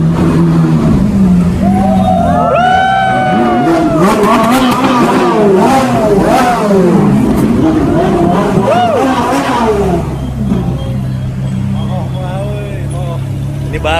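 A new sports car's engine revs loudly several times, sharp rising vroom bursts over a steady idle, with people chattering nearby.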